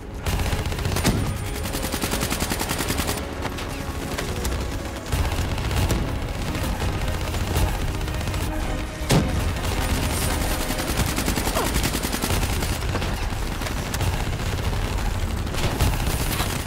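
Sustained automatic gunfire and explosions in the Black Ops 3 campaign, a dense, continuous barrage of loud rapid shots with occasional sharper blasts, with no pauses throughout.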